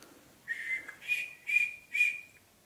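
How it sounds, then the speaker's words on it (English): Someone whistles a short tune inside an abandoned house, four clear high notes in a rising, wavering pattern. The whistling sounds somewhat distant against a quiet background. "Someone whistling. Can you hear that?"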